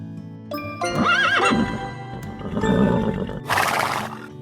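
A horse at a riding club stable neighs loudly in a rising, wavering whinny, then gives snorting breaths and a final breathy blow, heard close and alone without talk.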